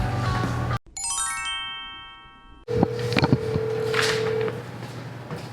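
Telephone call being placed at a startup office: a brief burst of rapid electronic dialing tones, then a steady ringback tone repeating as the line rings, clear and close with no talking.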